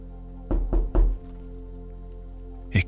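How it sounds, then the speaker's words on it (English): Three close, hollow knocks in quick succession, then a pause and a single further knock, all fairly loud and alone over a low steady hum. "I heard the softest knock, like a fingernail tapping glass."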